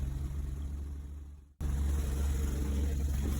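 A classic Mk3 Mini Cooper S engine runs with a steady low rumble that briefly cuts out, then idles unevenly at high revs, close by with no talk.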